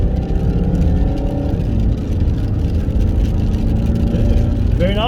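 Land Rover Freelander 2 accelerating hard on the road, a loud steady engine drone building under the cabin, with a rising whine near the end.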